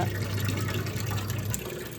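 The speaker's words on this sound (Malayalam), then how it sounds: "വെള്ളം പിടിച്ചിരിക്കുകയാണ്" Water runs into a cooler, a steady close gush of filling liquid with a low hollow rumble that eases off toward the end.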